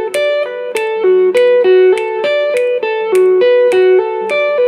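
Electric guitar playing a pentatonic phrase in seven, a steady run of clearly picked, sustained single notes with bright harmonics and a slight effects sheen, loud and up close with no talking.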